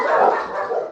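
Dogs barking at Boy Scouts arriving at the door to sell mulch, a single loud, close bark that trails into a whine within a second, with no talk.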